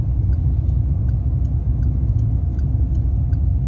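Car interior during a driving lesson as the car drives and turns right, a steady loud low engine rumble with faint regular ticking like a turn signal, no talk.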